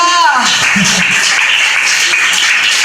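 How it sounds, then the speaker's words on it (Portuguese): A crowd claps steadily, a dense wash of applause, as a voice trails off at the start. "Aplauda Jesus, irmãos."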